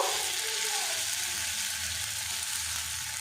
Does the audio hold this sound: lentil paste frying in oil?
yes